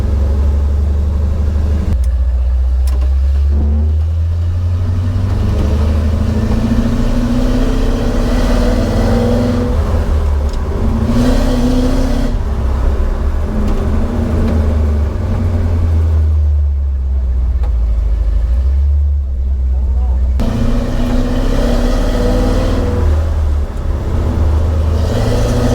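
A 1975 Ford F150 on a road test drive, its engine rumbling loudly and steadily from inside the cab, with the revs rising and easing between gear changes and no talk over it.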